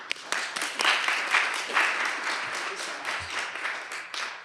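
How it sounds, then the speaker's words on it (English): Audience applause after an introduction at an academic session, steady clapping with a few sharp individual claps standing out at the start, sustained for several seconds before easing. "let's give a round of applause"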